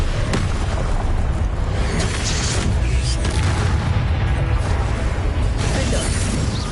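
The Confringo fire spell explodes in the Hogwarts Legacy video game amid a continuous loud wash of booming combat effects and rumble that fills the whole stretch.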